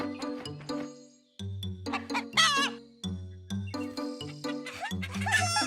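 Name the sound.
chickens clucking in a farmyard, cartoon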